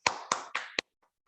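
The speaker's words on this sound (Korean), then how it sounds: "우리 허경 스타마스터님께 큰 박수" A few people clap for a speaker at a live online Zoom seminar, four distinct, close claps in quick succession, then silence.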